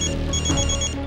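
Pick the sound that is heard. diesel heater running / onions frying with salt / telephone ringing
telephone ringing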